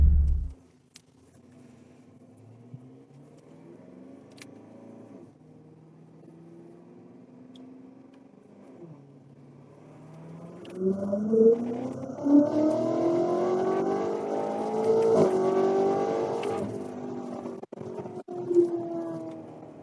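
A fully built, tuned BMW X6M engine being pushed through a tuning pull, starting low and steady, then rising hard in pitch and loudness into a strong, close revving climb with brief shifts near the end.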